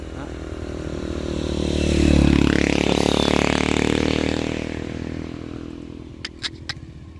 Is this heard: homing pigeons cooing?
no